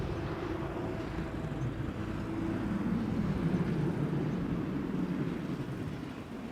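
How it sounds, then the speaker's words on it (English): A TAP Air Portugal Airbus A319 arriving from Lisbon at Amsterdam Schiphol, a steady broad jet roar that swells gently toward the middle and eases off, heard from a distance with no talk. "Got an A319 from Top Air Portugal coming next."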